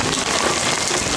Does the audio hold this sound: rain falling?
yes